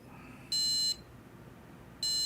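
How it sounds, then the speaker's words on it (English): Two loud, pure electronic beeps ring out from a PC motherboard (ASRock X870E Taichi) after failed RAM memory training, each lasting about half a second and spaced apart by a quiet pause. "So it's gonna do the beep beep and then we're gonna be in at 5600."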